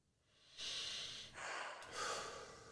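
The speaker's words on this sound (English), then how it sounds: "breathe in." Sharp, rhythmic in-breaths from a pumping breath exercise, three quick close gasping inhalations in a row, fairly loud and breathy, with no talking.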